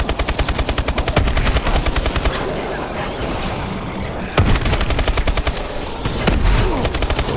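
Rapid automatic gunfire from the video game Call of Duty: Advanced Warfare rattles in long, evenly spaced bursts, loud and close, pausing briefly before resuming with another sustained stream of shots.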